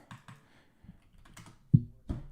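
A Bluetooth computer keyboard gives a handful of quiet, separate keystroke clicks at an irregular pace, close by in a quiet room, with one sharper tap near the end.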